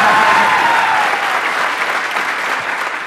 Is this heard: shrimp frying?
no